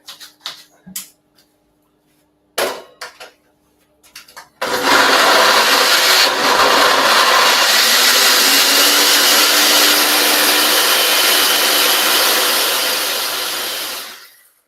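A kitchen blender whirs loudly and steadily for about ten seconds while blending vegan food with a little liquid, after a few short clunks and knocks, then winds down at the end.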